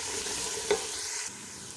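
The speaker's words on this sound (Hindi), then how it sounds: "अब प्याज का कलर ब्राउन करते हैं।" Two medium chopped onions fry in a pan, giving a steady close sizzle with a brief stirring scrape partway through before the sound settles a little quieter.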